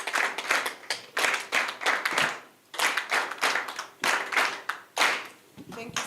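A conference audience claps together in a steady rhythm, many hands striking in quick, regular bursts that pause briefly partway through, with voices mixed in throughout.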